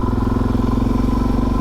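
A motorcycle engine idles or runs low in second gear, its steady pulsing throb close and loud with no other sound for under two seconds.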